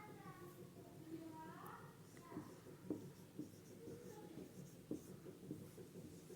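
Chalk or marker tapping and scratching on a board in a Class 12 physics lecture on Ampere's circuital law, faint and close, in short irregular strokes, while a teacher speaks.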